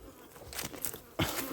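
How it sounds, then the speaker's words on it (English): Honey bees buzzing around a hive, a brief close buzz with a couple of louder passes as individual bees fly near, with no talk. "So see the bees down there."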